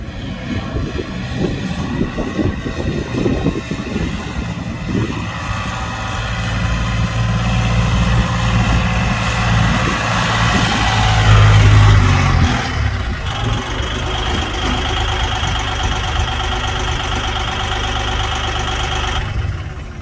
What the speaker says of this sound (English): I don't hear a Ranger. I hear a tractor